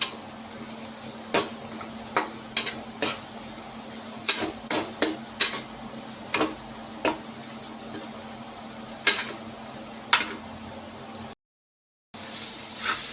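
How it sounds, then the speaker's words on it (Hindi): A spoon stirs cumin seeds and black pepper in a pan while making masala for an egg and onion curry. About a dozen sharp clinks and scrapes come at an uneven rhythm over a low, steady background hum. A brief silent gap falls near the end. "अब मैं इसको अच्छे से मिक्स कर दूंगी ऐसे"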